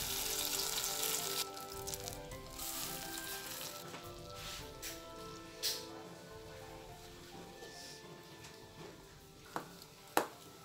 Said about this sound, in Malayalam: ഈ നെയ്യ് ഉരുക്കാൻ വയ്ക്കാം കേട്ടോ.